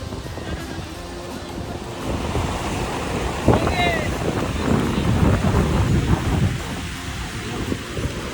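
Waves surge and wash continuously at Arambol beach in Goa, loud and close, with heavy wind buffeting the microphone and no talking.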